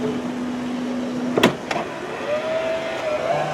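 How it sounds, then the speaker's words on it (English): A 2001 Chrysler Town & Country LX AWD power sliding door runs with a steady electric motor whine, then gives a loud latching thunk and a second clunk, followed by a softer changing motor hum as it finishes. "I didn't even know this thing had a power door."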